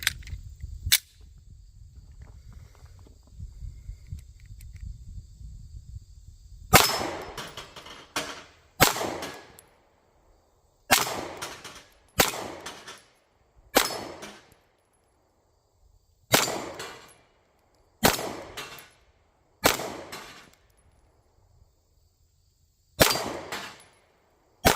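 A Taurus G2 pistol fires about ten sharp, loud shots at bowling pins from 15 yards, spaced irregularly a second or two apart, each crack followed by a short echoing decay in an outdoor setting.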